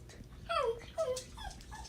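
A dog gives two short, high whining yelps, each sliding downward in pitch, followed by a softer whimper, heard close and alone over a low background rumble.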